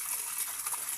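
Water splashes and pours steadily in a bowl as coarse rice is rinsed by hand before soaking, a continuous close gush lasting about a second with no talk.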